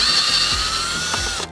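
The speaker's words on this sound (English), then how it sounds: "you can use the drill to loosen them and tighten them." A cordless-style electric drill fitted with a size 5 bit runs steadily on the handlebar bolts of a Kaabo Wolf Warrior King electric scooter, a continuous whirring motor with ratcheting mechanical texture, close and fairly loud, stopping abruptly at the end.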